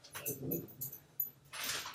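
Dog whimpering indoors at home, a few short faint whines and yips spread over a couple of seconds.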